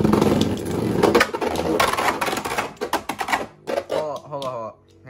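Beyblades rip from their launchers and clatter in a battle, a dense burst of whirring, rattling spin and hard clashes up close, with a voice talking over the latter part.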